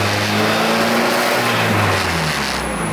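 A Honda Civic with a swapped K20a engine pulls hard along country lanes, its loud revving drone rising and falling steadily without a break, recorded close and clear with no talking.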